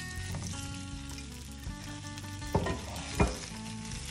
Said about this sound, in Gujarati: કટ કરેલા મુઠિયા એની અંદર એડ કરી દઈશું